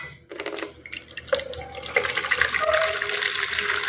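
Water pours and runs into a dog's bowl, starting with a few splashy bursts and building to a steady, close, fairly loud gush with no voices over it.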